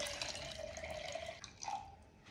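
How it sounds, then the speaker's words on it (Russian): Cold water pouring into a bowl for puff pastry dough, a steady close liquid stream with a rising tone as the bowl fills, a short break, then a brief final splash. "А теперь я убираю лопатку и добавляем сюда холодной воды."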